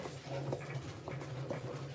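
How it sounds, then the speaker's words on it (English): A dog pants in quick, steady rhythmic breaths close by, with thin whimpering whines rising between the pants, with no talk over it. "The dog sees another dog."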